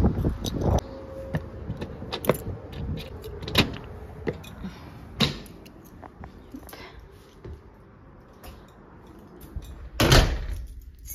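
A door at home opened and closed, producing several sharp close thumps and clicks spaced through the clip, with a louder slam near the end against faint room noise.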